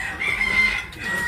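A chicken clucking nearby on a rural Vietnamese farm, a short run of sharp, high clucks and a drawn-out call heard fairly close with little else around.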